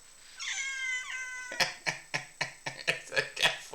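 A cat meows once with a drawn-out, wavering cry, then a run of sharp, evenly spaced knocks or taps follows close by, with no talking.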